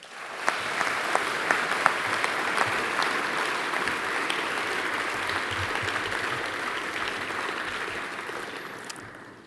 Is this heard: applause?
yes